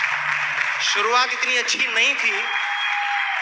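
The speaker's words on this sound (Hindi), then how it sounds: "जोरदार तालियों से उनका स्वागत करें" A Hindi-speaking audience at a motivational talk gives a couple a loud welcome of steady clapping, while someone speaks over the applause partway through.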